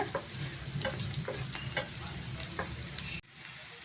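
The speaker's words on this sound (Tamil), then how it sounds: "பூண்டு சேர்த்துட்டு நல்லா வதக்கி விட்டுக்கோங்க" Onion and garlic sautéing in a pan for peerkangai kootu give a close, steady sizzle with rhythmic stirring scrapes, which drops sharply near the end before a softer sizzle continues.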